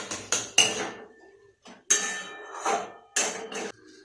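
A spoon clatters and scrapes against a pan while yogurt is stirred into paneer bhurji, in four or five short, fairly loud bursts separated by quieter gaps.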